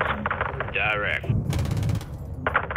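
Gunfire in Call of Duty: Modern Warfare 2, a few sharp bursts of shots mixed with radio chatter and voices talking over the action.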